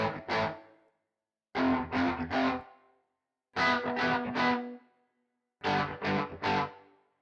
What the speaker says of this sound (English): it's successfully removing most of the reverb, but there's still a little artifact